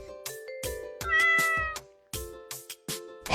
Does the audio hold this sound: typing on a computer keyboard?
no